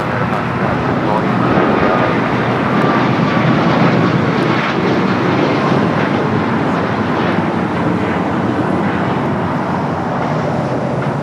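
A jet airliner takes off at LAX, its engines a loud, steady broadband roar that holds without letup, with a faint voice in the background.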